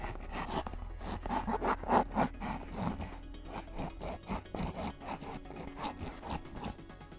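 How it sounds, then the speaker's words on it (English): A hand file rasps back and forth against a workpiece, rounding off a sharp edge on a jetpack prop build; steady rhythmic strokes, close and moderately loud, with no talking. "this file's handy, so I'm going to try it first."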